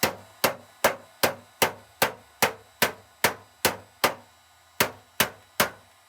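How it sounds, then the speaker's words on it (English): Light poly hammer striking a steel car fender, about fourteen sharp, evenly paced blows roughly every half second, each a loud close knock that quickly fades, with no speech. "I'm going to start with the light one, like a poly hammer"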